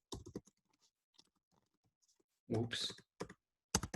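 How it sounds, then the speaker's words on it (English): Clicky computer keyboard typing comes in short bursts of keystrokes between quiet gaps, close and fairly loud, with a brief spoken word in the middle. "just type in stat 300 online"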